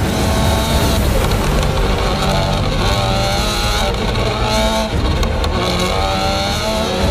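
Subaru WRC rally car racing at high speed through a speed trap, a loud, sustained, high-revving engine roar with shifting pitch and a brief gear change, close and continuous.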